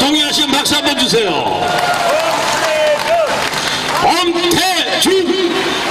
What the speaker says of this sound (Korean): 자, 동의하시면 박수 한번 주세요.